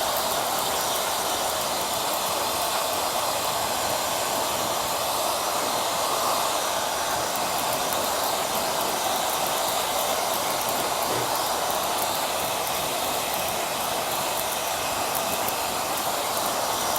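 A hair dryer with a power button for switching between cool and hot air runs continuously for a long stretch, a steady close broadband whoosh with no speech.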